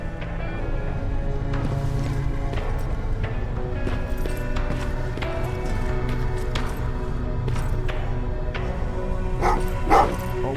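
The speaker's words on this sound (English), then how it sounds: "What's with the dog?" Dog barking in the Terminator: Resistance video game, repeated sharp barks scattered over a dense bed of in-game ambience and droning tones, with a louder burst near the end.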